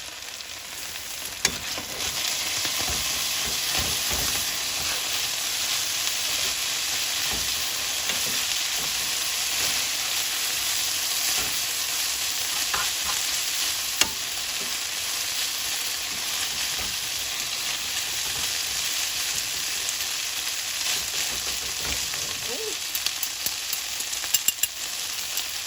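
Ground beef for tacos fries in a pan over medium heat, making a steady, even sizzle that runs throughout, with occasional light clicks and scrapes of stirring.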